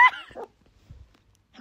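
A chihuahua lets out a quick high-pitched yapping bark, close and sharp, followed by a faint low rustle and another short yip at the end.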